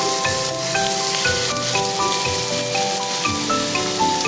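Washed, drained potatoes sizzling in hot oil in a pan for jhinge aloo posto, a close, dense, continuous crackle and hiss with no talking over it.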